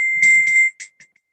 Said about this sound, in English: So the chime sounds like this.